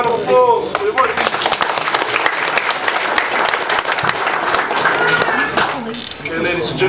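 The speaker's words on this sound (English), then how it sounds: "Come on, a round of applause." Energetic applause from the audience at a Maori concert in Rotorua, dense and loud for several seconds with some cheering and a voice speaking over it near the start and end.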